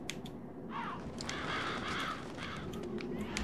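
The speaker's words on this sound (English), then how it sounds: "I guess the crows are the trigger." Crows caw in the dark fantasy video game Demon's Souls, a few harsh calls rising over a steady, noisy in-game ambience with no talk.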